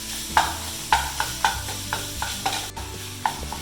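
Spicy Italian sausage, taken out of its casing, browns in a pan with a soft sizzle under repeated scraping and stirring strokes, close and clear.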